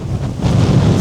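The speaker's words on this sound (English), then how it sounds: "God, windy." Strong wind on a golf course buffeting the microphone, a loud, close, continuous rumbling roar with no voices.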